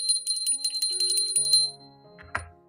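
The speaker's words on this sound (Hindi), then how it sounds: "छोटा सा घंटानाद" A small bell rings in a quick series of bright, shimmering strikes before tarot card shuffling, its tones ringing on and fading, followed by a soft thud at the end.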